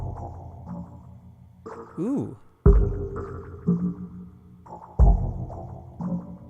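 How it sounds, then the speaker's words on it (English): Phaser-flanger effect with heavy feedback in Ableton Live, processing a sparse beat: sweeping, whooshing resonant tones, a pitch-bending swoop and punchy low hits. A voice briefly exclaims partway through. "this little section here is controlling the phaser flanger device."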